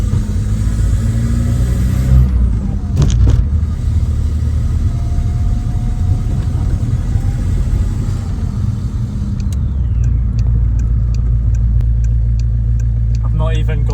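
A Volkswagen 1.9 TDI diesel with a 3-inch downpipe and no exhaust, pulling away: a loud, deep, raw engine drone with a gruff rumble, steady throughout and heard up close, with brief clicks and rattles.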